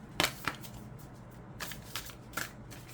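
Tarot cards shuffled up close: a few crisp riffling bursts and snaps separated by quiet pauses, with no voices.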